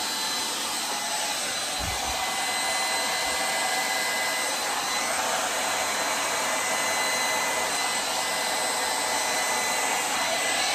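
A hair dryer blows across acrylic pour paint on a canvas, a loud, constant broadband whoosh of air that holds steady for the whole stretch with no speech.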